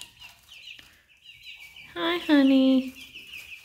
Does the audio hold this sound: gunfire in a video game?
no